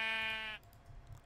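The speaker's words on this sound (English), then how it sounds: "So there's one sheep" A single sheep bleats in Minecraft with the FTB Unstable modpack, one clear, close, sustained game-sound bleat that cuts off abruptly into quiet.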